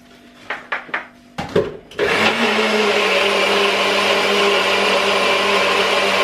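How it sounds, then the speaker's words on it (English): A blender whirring through protein pancake batter, preceded by a few clunks and taps as the lid is handled, then a loud, steady motor roar that runs to the end. "Let's give it a little, another little blend."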